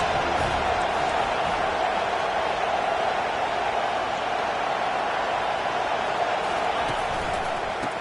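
Football stadium crowd during a college football game, a steady loud roar of cheering that fills the whole stretch without letup.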